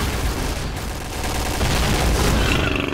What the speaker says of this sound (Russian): Граната! Граната! Граната!